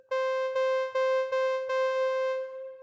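Thick, bright super saw tone from the Copperhead digital synthesizer by 4Pockets on iOS, played as five evenly spaced repeated notes, the last ringing out and fading, clean with no speech.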